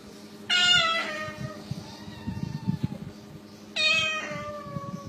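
A parrot imitates a cat's meow, giving two loud, clear, drawn-out meows a few seconds apart, with faint background chatter and clatter between them.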